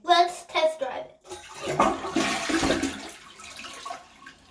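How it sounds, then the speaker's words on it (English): A toilet flushes after a new flapper is fitted, a rushing swirl of water under voices, including a child, talking nearby. "I think you need to hold the flusher down."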